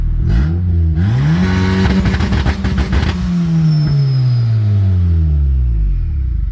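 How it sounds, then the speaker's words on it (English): A loud, close Honda car engine revs hard with its exhaust dump open, holding a raspy, crackling roar, then winds down slowly to a deep rumbling idle. "now we're gonna do a dump rev. It's much louder."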